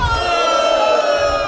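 A large outdoor crowd at a political rally in Jinju Central Market roars and cheers steadily, a loud, dense wash of voices with no pauses.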